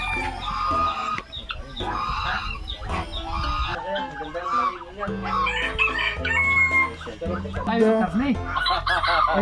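A young rooster crows repeatedly amid clucking fowl and other farm animals outdoors, loud and close, while people talk intermittently in the background.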